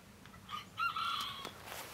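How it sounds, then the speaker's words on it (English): A rooster crows among chickens outdoors on an overcast day, a single faint distant crow rising over quiet background ambience. "As you can probably hear from that loud background noise, I've got some chickens around the place"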